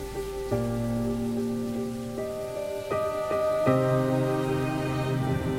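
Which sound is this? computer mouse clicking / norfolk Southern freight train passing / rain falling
rain falling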